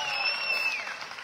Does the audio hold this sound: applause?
yes